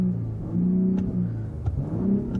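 A 2022 Ford F-150 Raptor's exhaust drones from inside the cab, a steady, muffled low rumble that swells slightly as the engine pulls, with no talking over it.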